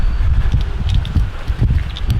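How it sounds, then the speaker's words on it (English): Strong wind buffets the microphone with a low, continuous rumble and gusty roar, and faint rustling and scattered light knocks underneath, out in the open while fishing. "It's really windy down here now that we're out in far more to the open."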